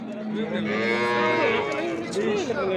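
A cow moos loudly and close by at a livestock market in Vobkent, Bukhara, one long drawn-out low call that rises and wavers before fading.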